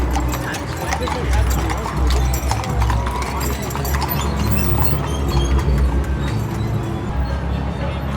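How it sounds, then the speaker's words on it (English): Horse hooves clip-clop in a busy, continuous rhythm close by, with crowd noise and voices underneath. "Look at the horses."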